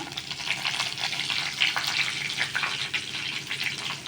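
Curry leaves and mint frying in oil with black mustard seeds for chirer polao, a busy crackling sizzle with sharp pops and spits, close and moderately loud throughout.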